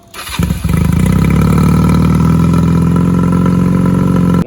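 A motorcycle engine cranks briefly and fires up, then settles into a loud, steady idle close by, with no talk.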